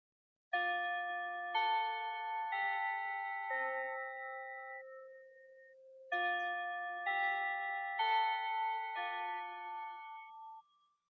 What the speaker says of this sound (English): That bell means we reached the end of today's episode.